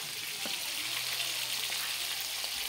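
Fish, including rupchanda, frying in a hot pan for a family meal, giving a steady close sizzle and crackle that runs unbroken throughout.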